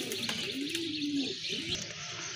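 Pigeons in a loft of fancy breeds cooing, a soft low warble rising once in the middle against a hissy indoor background, fairly faint.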